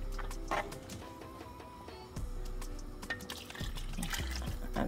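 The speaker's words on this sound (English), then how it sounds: "Add some extra water to wash out the pot and to get our sauce nice and soupy." Extra water poured into a cooking pot of callaloo soup with pigtail and smoked turkey, a steady close trickle and splash running under kitchen clatter.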